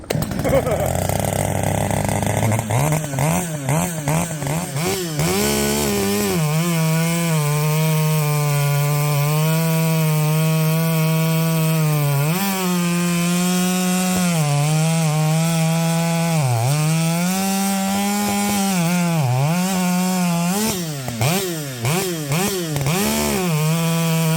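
Several small chainsaws, including a ported 5-series saw with stock transfers, run loud and steady at a gathering, with engines bogging and climbing in pitch over about 24 seconds while people talk nearby.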